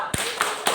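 A group claps the Indonesian 'tepuk wow' clap chant at a positive school-culture training session: three sharp, evenly spaced claps in quick succession, close and fairly loud with no talking.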